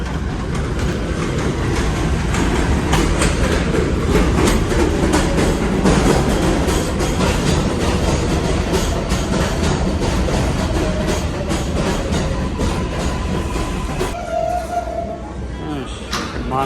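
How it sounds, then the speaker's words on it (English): A New York subway train arrives at the station with a loud, sustained rumble and clattering of wheels on rails, followed by brakes squealing and the train slowing near the end. "Alright guys, train is coming."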